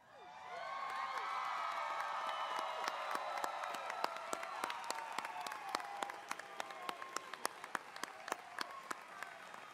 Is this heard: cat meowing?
no